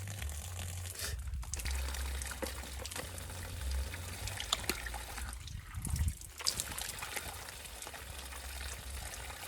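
Water runs steadily from a hose, a continuous trickling hiss with a low rumble underneath, broken by a couple of brief pauses and faint clatters.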